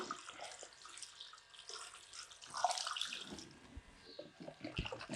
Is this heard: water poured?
yes